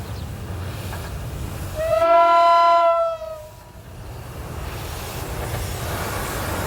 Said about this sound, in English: the engineer of the daily passenger train shut off steam as he started his cautious descent